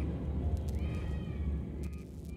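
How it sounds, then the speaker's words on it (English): A cat meows inside the horror video game Alien Isolation, a faint drawn-out mewing cry heard over a low rumbling ambient drone, with no talking. "Am I hearing a cat?"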